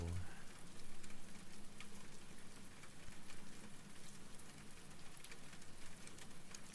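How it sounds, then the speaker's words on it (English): Steady rain patters and hisses without a break, a dense, even crackle of drops on a surface heard close and fairly quiet throughout. "Hello, Rain."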